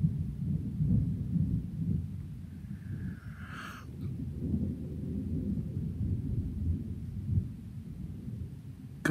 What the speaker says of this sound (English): Also, there's a storm going on.